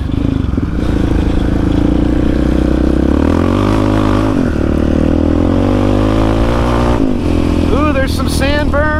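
Yamaha Raptor 660 and 700 ATVs and a Scrambler running in a sand pit: a loud, constant engine drone that rises and falls with revving throughout.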